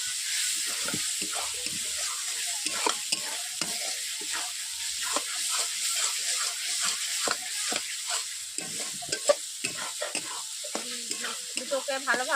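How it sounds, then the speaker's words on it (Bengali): Peas and chopped capsicum stir-fried in spice paste for a Bengali jackfruit (echor) curry, a steady close sizzle broken by frequent scraping stirs of the spatula throughout. "দুটোকে ভালোভাবে আমি কষিয়ে নিচ্ছি মশলার সঙ্গে, যাতে সবুজ বা গন্ধটা চলে যায় তার জন্য"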